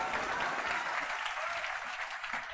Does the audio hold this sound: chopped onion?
no